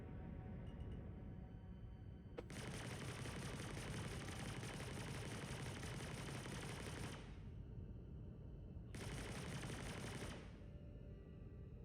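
Sustained automatic gunfire in a space adventure video game, a dense continuous burst lasting several seconds, a short pause, then a second shorter burst, loud and steady with no speech.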